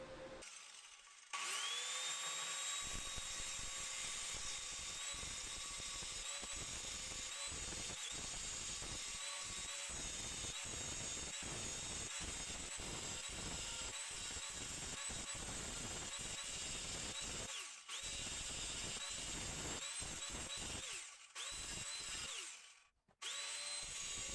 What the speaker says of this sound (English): This is the first pass with the grinder there.